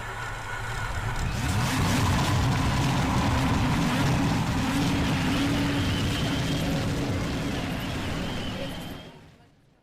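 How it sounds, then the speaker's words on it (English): Race car engines start and rev together at the start of a Road To Indy eSeries sim race at Watkins Glen, a loud sustained droning roar that fades out at the end, heard with no talk over it. "Drivers, start your engines."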